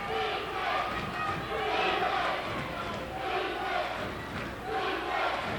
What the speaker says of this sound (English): That's UNA folks, everybody. The chant for defense.